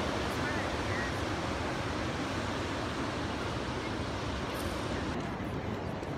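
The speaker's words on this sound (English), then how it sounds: "we're out on the beach, gonna get a nice cold brew, go watch some surfers" Ocean waves wash onto a beach in Pacific Beach, California, as a steady broad roar of surf mixed with wind buffeting the microphone, continuous and fairly loud.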